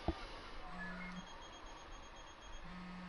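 A phone rings through a game controller's speaker in Final Fantasy XV, two short electronic ring tones separated by a pause, faint against the game's ambient soundscape.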